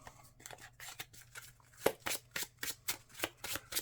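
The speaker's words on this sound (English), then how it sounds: "These get shuffled in." Marvel Champions encounter cards being shuffled by hand, a run of crisp riffling bursts repeating in a steady rhythm, close and fairly quiet with no talk.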